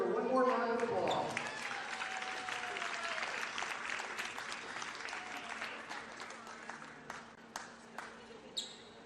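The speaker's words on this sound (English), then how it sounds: "Let's give her one more round of applause." A volleyball crowd in a gym breaks into applause, loud at first and then thinning to scattered claps, with a single whistle-like tone trailing through early on.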